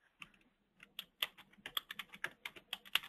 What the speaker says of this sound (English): It sounded like you were typing.